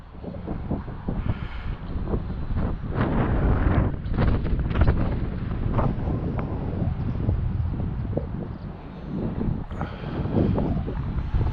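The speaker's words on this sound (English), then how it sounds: "Wow, it's really windy out" Strong gusty wind buffeting the microphone during an FPV drone flight outdoors, a continuous loud roaring rumble with surging gusts and no talking.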